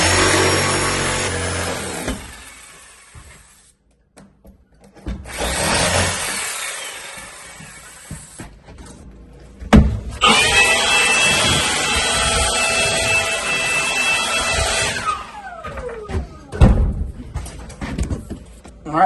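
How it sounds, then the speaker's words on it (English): Jigsaw cutting a circular opening in a Tile Redi shower base during new home construction, heard in several loud bursts of buzzing sawing separated by short pauses. "I just made this circle and now I'm going to cut it out with a jigsaw"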